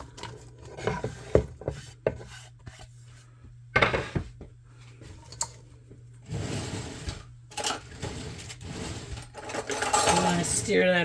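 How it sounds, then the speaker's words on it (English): A utensil scrapes and knocks in a pan as sliced peppers and onions are stirred in oil. The rubbing and tapping comes close and irregular under a low steady hum, with a person talking over it. "You want to stir that around a bit, break up those onions, get the oil on all of that"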